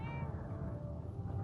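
A cat meows in Fallout 4 Survival Mode, one drawn-out meow that fades over a steady low hum, with no voices.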